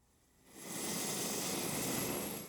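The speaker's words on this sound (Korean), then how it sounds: "힘찬 프로펠러 소리와 함께 헬리콥터가 날아오릅니다." A Chungnam doctor helicopter, an air ambulance, takes off. Its rotor and engine roar swells in after half a second, then holds loud and steady.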